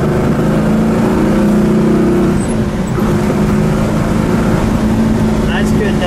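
A 1968 Oldsmobile 442 W-30 in Willow Gold accelerates along a road, its engine a loud, steady low drone heard from inside the car with a slight rise partway through.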